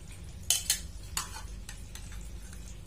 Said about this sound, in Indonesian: Nih udah, sekarang langsung akan kita goreng ya.